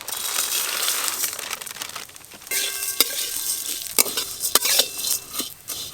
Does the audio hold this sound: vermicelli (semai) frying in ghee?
yes